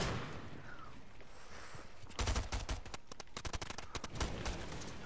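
Video game gunfire crackles in rapid bursts of sharp shots, fairly quiet under a noisy background, with a dense volley in the second half.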